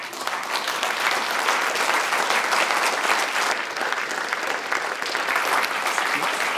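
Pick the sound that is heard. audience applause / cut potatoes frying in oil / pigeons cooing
audience applause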